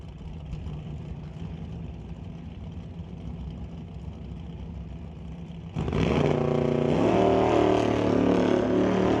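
At a drag race, a 1969 Ford Falcon and a 2024 Ford F-150 sit under a low engine rumble, then both launch into a sudden loud, sustained roar of racing engines.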